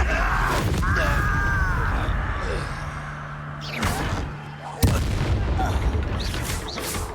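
Incendio fire spell cast in Hogwarts Legacy, a fiery whoosh and sharp impact bursts amid battle, with voices and effortful grunts over the action.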